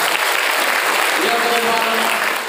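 An audience claps in applause at a school motivational seminar in Bogor, a steady, dense wash of many hands sustained for a couple of seconds, with faint voices mixed in.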